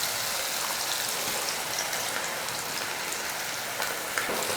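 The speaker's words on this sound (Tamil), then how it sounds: "இதை எண்ணெயில் போட்டு பொரிச்சு எடுக்கிறது தான்." Idli batter pakoda pieces frying in hot oil make a dense, continuous crackling sizzle, close and even throughout with a few sharper pops, and nobody speaks.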